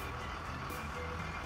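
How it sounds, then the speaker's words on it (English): A Roblox school bus pulls up, giving a steady engine rumble with a continuous hiss and faint repeating tones, moderately quiet and without talk. "I see the school bus pulling up now."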